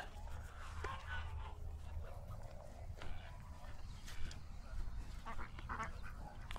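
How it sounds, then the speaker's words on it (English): Several ducks quack repeatedly at a lakeside fishing spot, with scattered calls of mid-distance over a steady low outdoor background and no talking. "Lots of ducks."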